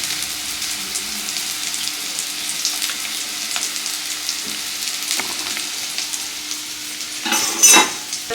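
Onions sauté in a hot pan for a home-cooked mutton pepper fry, giving a steady close sizzle throughout with a brief louder clatter of stirring near the end.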